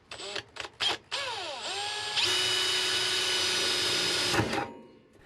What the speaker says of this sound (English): First, use a smaller drill bit to drill the pilot hole.